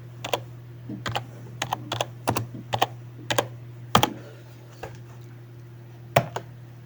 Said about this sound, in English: Let me now type .NET run.